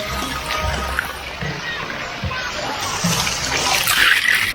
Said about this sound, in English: let's walk through the splash pad